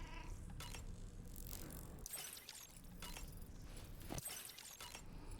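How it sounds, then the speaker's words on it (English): A cat in the video game Death Stranding 2 meows amid dense game audio, with a few brief clinking and jangling bursts cutting through the steady background. "I want to show you the cat that rolls with us regularly everywhere"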